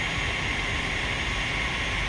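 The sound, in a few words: aircraft engine in the flight simulator game DCS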